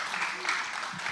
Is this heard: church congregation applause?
yes